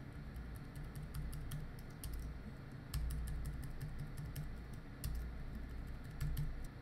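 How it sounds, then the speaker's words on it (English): Rapid clicking of a computer keyboard as pipe characters are typed, an even stream of light keystrokes with a few heavier taps, steady and close with no voices. "I'm going to start typing some pipe characters."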